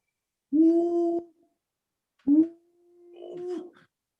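A human voice imitates an owl, giving three drawn-out hooting calls separated by short pauses, close and clear against silence.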